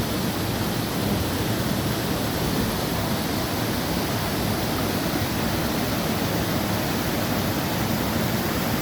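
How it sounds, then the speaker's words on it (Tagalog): Steady, dense roar of water pouring at Kipot Falls, a loud broadband rush that stays constant throughout with no voices or other sounds standing out. "Yan ang Kibot Falls."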